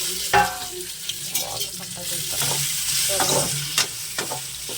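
Dried red chillies, with cumin nearby, hit hot oil and sizzle in a steady hiss, broken by a few sharp clinks of the stirring spoon against the pan. No one speaks.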